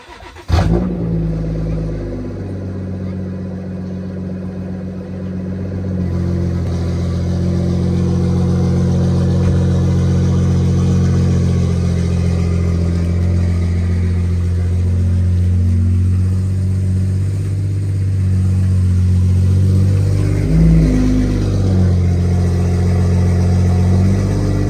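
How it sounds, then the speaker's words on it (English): A BMW F80 M3 fires up from cold, with a sharp crank and catch, then settles into a loud, steady high idle that lifts slightly and keeps droning evenly for the rest of the clip. "I'll give you guys a cold start real quick"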